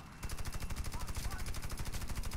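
A rapid burst of repeated gunfire in the game Warface, an airbase team deathmatch, a dense, even rattle of shots lasting a couple of seconds without pause.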